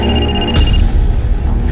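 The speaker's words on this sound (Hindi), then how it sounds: "फोन आ रहा है हमारा" A telephone rings loudly and steadily with an electronic tone in the opening half second, then gives way to a dense, noisy room background in a crime drama scene.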